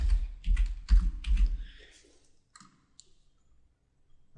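Computer mouse clicks and keyboard typing while an email label is set up, a quick run of sharp close clicks followed by a few sparse, softer taps.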